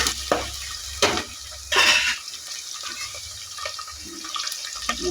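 Onions frying in a pan, a soft continuous sizzle with a few louder stirring scrapes and splashy bursts, close by and alone without talk.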